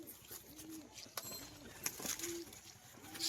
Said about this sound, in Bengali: এটা কিন্তু নর পায়রা